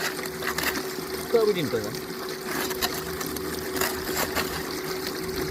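A pump runs a handmade high banker for gold prospecting beside a river, a steady mechanical drone under rushing water, while someone talks over it.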